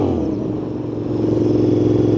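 A Royal Enfield Interceptor 650 twin-cylinder motorcycle engine revs up close and loud, its deep pulsing throb rising steadily in pitch over a couple of seconds.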